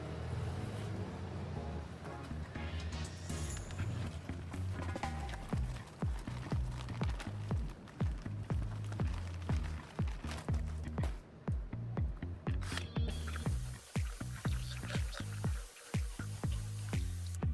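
Grey mortar being mixed with water in a bucket for a thin brick fireplace, a steady run of wet squelching and slapping strokes that repeat rhythmically, close and moderately loud throughout.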